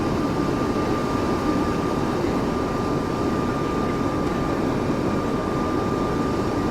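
Steady, loud jet engine drone of an Airbus A220 in a flight simulator sound package, a broad continuous roar with a fixed whining tone running unbroken throughout.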